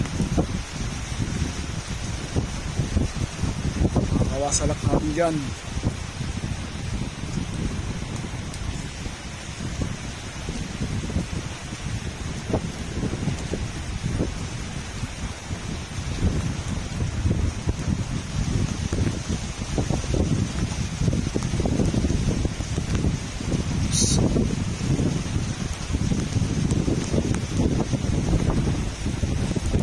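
Steady rain and gusting wind roar through a barangay during Typhoon Paulo, a dense, unbroken wash of noise that fills the whole stretch, with a voice speaking briefly and faintly underneath.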